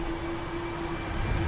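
An Aer Lingus A330 taxiing out at Manchester Airport produces a steady engine drone with a strong sustained whine, constant in level and heard from the apron side.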